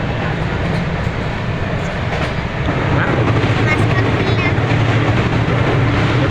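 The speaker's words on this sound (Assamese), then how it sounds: "গৈ আছোঁ এতিয়া কামৰূপ এক্সপ্ৰেছত গৈ আছোঁ" A Kamrup Express passenger train runs along the rails near Guwahati in the early morning, giving a steady, loud rumble and rattle of the carriages with faint clicks, heard from inside the coach.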